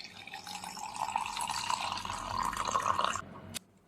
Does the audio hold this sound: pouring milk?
yes